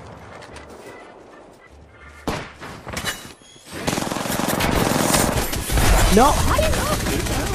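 Rapid automatic fire from a Devotion light machine gun in the Apex Legends video game, a loud dense burst in the second half over game noise, with voices shouting across it.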